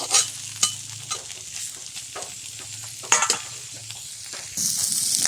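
Prawns fry in a wok with a moderate sizzle and irregular stirring clicks and scrapes, with a few sharper clatters and a brighter hiss surging near the end, with no one talking.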